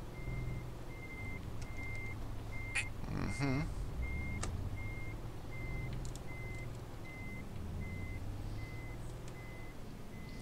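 Truck reversing beeps during a three-point turn in Euro Truck Simulator 2, a steady series of evenly spaced electronic beeps over a low engine drone, with a brief air-brake hiss partway through.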